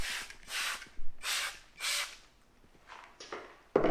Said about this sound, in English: So I'll spray.